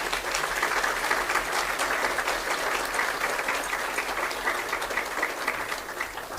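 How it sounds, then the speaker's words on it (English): A large audience at a community radio awards ceremony keeps up steady, dense applause for several seconds, filling the room at an even level with no speech over it. "you can applaud this if you'd like to"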